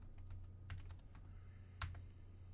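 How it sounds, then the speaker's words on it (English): Typing on a computer keyboard, heard as a quiet run of soft key clicks in an irregular rhythm, with a couple of firmer taps over a low steady hum. "Come on, keyboard, work with me."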